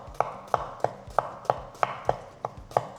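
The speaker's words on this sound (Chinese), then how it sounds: "那我就直接横刀切了哈，这样子切，可以的话就切细一点" A knife chops red onion on a cutting board with steady strokes, about nine sharp, evenly spaced knocks, each with a short thump, heard close with no talk.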